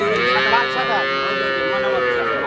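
A cow moos loudly and close by, one long sustained low call lasting the whole moment, at a busy livestock market where a milking cow with her white calf is on sale.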